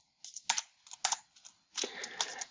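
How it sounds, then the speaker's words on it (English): Typing on a computer keyboard to enter a baseball team nickname into an electronic scoreboard system, in three short bursts of close, clicky keystrokes with brief pauses between them, no voices. "And you would type in the team nickname"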